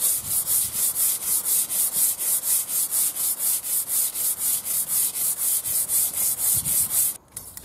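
Tiles are scrubbed with fast, even back-and-forth strokes along and across the grout lines: about two dozen rhythmic, loud, close rubbing swishes in a steady run, then a sudden stop.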